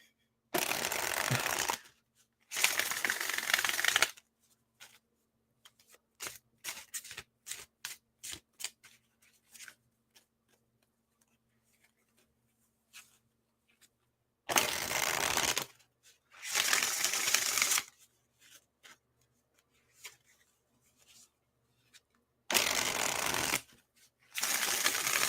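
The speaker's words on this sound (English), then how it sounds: "Okay, last two shuffles." Tarot cards are riffle-shuffled in loud, brisk bursts, with softer ticking card handling in between and quiet gaps, repeated several times and heard close up.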